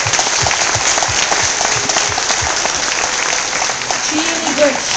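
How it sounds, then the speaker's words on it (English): Audience at a treaty celebration presentation claps steadily after a call for applause, a dense, sustained round of clapping from a crowd with a few voices and cheers mixed in. "Let's give them a round of applause"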